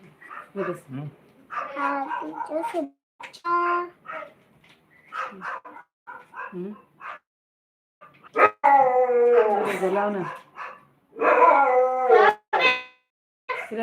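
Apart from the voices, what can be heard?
dog barking and howling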